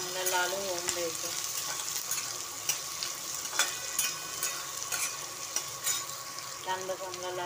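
Onion frying in hot oil with chillies in a pan sizzles steadily and crackles, with occasional spoon clinks and stirring scrapes, close and continuous over the whole stretch.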